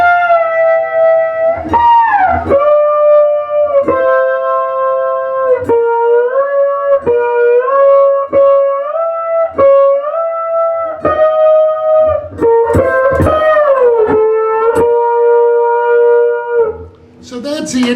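Slide guitar plays the intro of a song, with sustained notes gliding between pitches over a steady rhythm, loud and close, with harmonizer-thickened tone and no talking.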